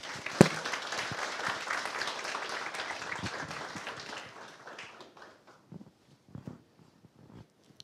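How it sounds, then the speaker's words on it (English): Audience applause for a talk at Harbour.Space fills a room loudly and steadily at first, then thins out into scattered last claps before fading away. "now it is time really to give a big round of applause to Igor"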